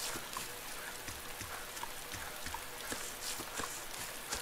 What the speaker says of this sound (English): can't believe it's still raining.